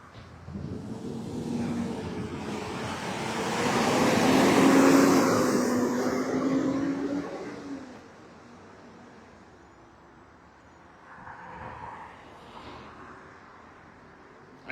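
Busy street traffic during a morning walk: a loud vehicle swells past nearby over several seconds, then quieter road hum and a fainter second vehicle passing in the distance, with no talk.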